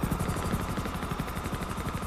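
Helicopter in a combat video game being shot down, its rotor giving a steady, rapid thumping pulse with a dense mechanical roar that holds at a constant, fairly loud level throughout.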